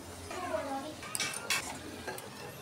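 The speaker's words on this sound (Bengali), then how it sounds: "এখন আমি নাড়া দিয়ে দেবো, মাঝে মাঝে নেড়ে চেড়ে দেবো" Potatoes frying in a pan for chicken biryani, stirred now and then: a soft sizzle runs throughout, with a few sharp scrapes and clinks of a utensil against the pan near the middle and end.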